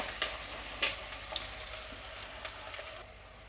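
Chopped onions frying in hot oil for a sardine curry, giving a continuous soft sizzle with a few brief scraping stirs of a spoon in the pan, fairly quiet and without voices.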